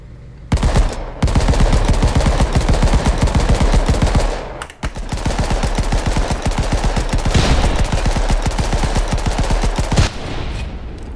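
A tank in the video game Tank Game fires in rapid, steady bursts of loud, closely spaced shots, broken by one short pause before the barrage resumes.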